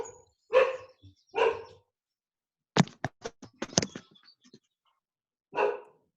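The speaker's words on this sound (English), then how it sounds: "There goes my dog." A dog barks outdoors, with two single barks, then a rapid burst of several loud barks, and one more bark after a pause, all clear and close against near silence.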